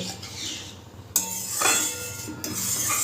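A spoon stirs pabda fish curry in a metal pot, giving a couple of sharp clinks against the side over a soft background hiss, heard alone and close.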